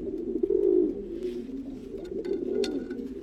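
Pigeons coo steadily in a breeding loft, a low throaty rolling murmur from several birds close by, with a few faint clicks and rustles behind it.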